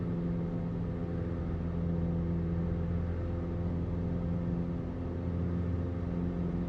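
Steady drone of a light bush plane's piston engine held at 2,600 RPM in Flight Simulator 2020, a continuous even hum with a low rumble that stays level throughout, with no talking.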